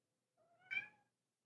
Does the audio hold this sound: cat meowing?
yes